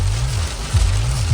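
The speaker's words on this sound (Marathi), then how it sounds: "आता तर एवढा जबरदस्त पाऊस आलाय ना अक्षरशः काहीच दिसून नाही राहिलं." Heavy rain drumming steadily on a vehicle while driving through a ghat, a dense continuous wash with a low engine drone underneath, loud and close.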